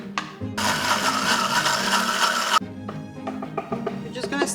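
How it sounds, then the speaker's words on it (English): A kitchen blender whirs loudly for about two seconds as it purees pesto with lemon and olive oil, cutting off abruptly, followed by quieter clatter and handling noises. "We're just gonna add our olive oil, and we'll start blending."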